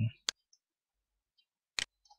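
A computer mouse clicks while a video is edited in Sony Vegas: two crisp, distinct clicks about a second and a half apart, with fainter small ticks between them in a quiet room.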